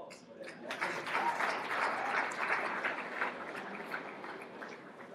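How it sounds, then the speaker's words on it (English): An audience applauds a graduating student athlete at a campus ceremony, a soft, fairly distant patter of clapping that swells and then tapers off. "So one more round of applause for that."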